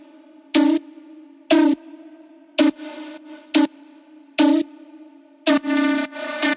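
Tech house synth lead made in FL Studio, bright buzzy chord stabs played in short bursts, some longer held notes, with a faint background pad between them.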